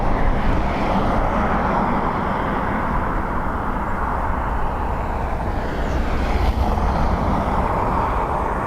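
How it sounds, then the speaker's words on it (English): An ATR turboprop arriving at Dublin Airport on a windy day makes a loud, sustained propeller and engine drone that stays fairly constant throughout, swelling slightly near the end, with no talking. "ATR for our last arrival for the day, folks"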